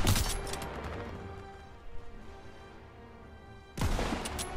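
Anti-aircraft gun firing in Call of Duty: WWII, a heavy blast at the start and another near the end, with a quieter rumbling stretch between, loud and close.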